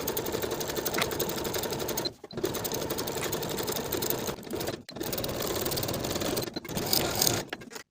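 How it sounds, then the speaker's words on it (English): A sewing machine runs steadily, stitching stretch-stitch seams on a tank dress. The loud, continuous mechanical hum breaks into three short pauses before starting again. "Sew each of these seams with your preferred stretch stitch and finish the seams if you like"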